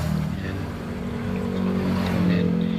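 Fuso 6M70 diesel engine knocking under acceleration, a close, steady low mechanical drone with a rising rumble and no talk over it.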